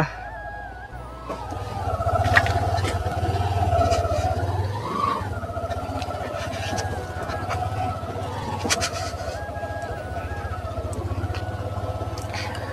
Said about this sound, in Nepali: अलिकति RPM बढी भएको छ बाइकको।